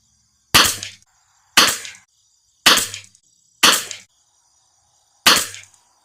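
Five sharp rifle shots fired through an L3I heavy barrel tuner during group shooting, each a loud, crisp crack with a short decaying tail, spaced roughly a second apart with one longer pause before the last.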